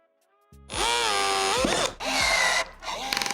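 A power tool drives 4.8 mm flanged-head rivets into a carbon fibre splitter on an Audi S3 8Y, giving two long, loud whirring bursts with brief gaps, then a few sharp clicks close by.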